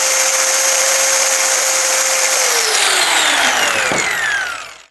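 Cheap 4-inch electric angle grinder MY90B spinning at about 11,200 RPM with no load, a loud steady high-pitched whine held close, then winding down as it is switched off near the end.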